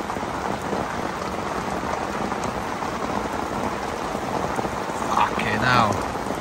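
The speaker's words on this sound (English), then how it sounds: "Guess you could say it was raining." Heavy rain falls steadily in a dense, continuous hiss of drops hitting surfaces, close and loud throughout, with a brief faint voice near the end.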